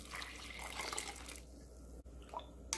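Cold purified water pours into a bowl of cucumber seaweed soup in a kitchen, a faint trickling splash lasting about a second and a half, followed by quiet with a soft clink near the end.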